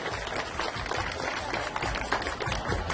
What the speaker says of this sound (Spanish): regalemos un fuerte aplauso a nuestros invitados